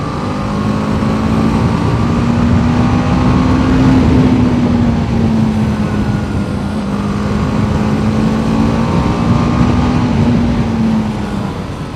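A new motorcycle being ridden, its engine holding a steady droning hum that rises and falls slightly in pitch, loud and continuous throughout with rushing wind noise and no talking.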